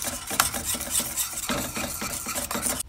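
Eggs and nutmeg whisked into a white sauce for moussaka, off the heat: quick, rhythmic close scraping and clinking of a whisk against a pan, steady strokes with no talking.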